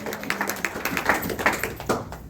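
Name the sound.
congregation applauding the word of the Lord in church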